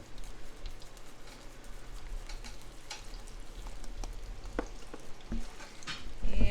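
Chicken breasts sprinkled with salt sizzle in a skillet over medium heat, giving a steady, crackly frying hiss with scattered pops and a few louder knocks near the end.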